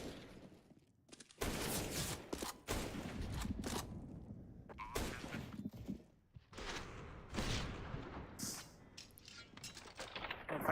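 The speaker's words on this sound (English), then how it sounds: "lovely shooting from Brokey" Rapid gunfire in the video game Counter-Strike during a professional esports match between MIBR and FaZe, with repeated bursts of shots and clatter crowding the mix, loud and nearly continuous with only short pauses.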